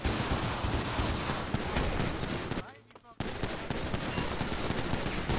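Loud, rapid automatic gunfire fills a GTA 5 police getaway, with dense bursts of shots that drop out briefly in a short lull before resuming just as heavily.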